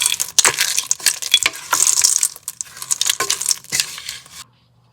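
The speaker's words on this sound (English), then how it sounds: "Now get about 3/4 of a cup of M&Ms. And then just mix it in." M&M candies being stirred into cookie dough, a run of close, gritty scraping and crunching stirs with brief pauses, ending in quiet.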